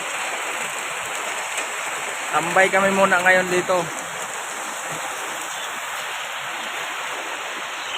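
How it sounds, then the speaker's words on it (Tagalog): Heavy rain from a typhoon and monsoon pours down steadily in Manila, a constant loud hiss of downpour with someone talking briefly over it. "Umuos na naman guys ang malakas na ulan oh."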